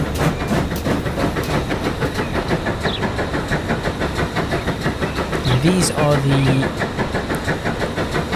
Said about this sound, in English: GWR tank engines, aren't they?